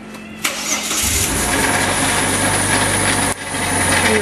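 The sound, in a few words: Ford Territory engine starting with suspect noise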